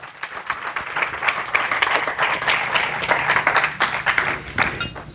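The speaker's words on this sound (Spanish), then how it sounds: "Denle el aplauso fuerte al Señor." A church congregation bursts into dense, sustained applause, many hands clapping loudly and steadily throughout before it begins to thin out near the end.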